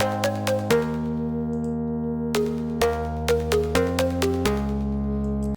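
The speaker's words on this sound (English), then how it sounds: "For this tutorial I'll be using a melody we made from a previous tutorial" A synth melody programmed in FL Studio plays alone, with bright plucked chord notes struck in a steady rhythm over sustained low bass tones, clear and close.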